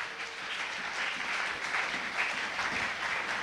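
A church congregation at a Sunday service applauds for Jesus, with steady clapping from many hands that fills the room at a moderate level and carries on throughout without a break.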